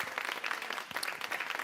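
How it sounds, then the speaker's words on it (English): Audience applause at an evening institute launch event honoring a city mayor, a brief dense patter of clapping throughout at moderate level with no voices over it. "Let's give Mayor Pratt a round of applause"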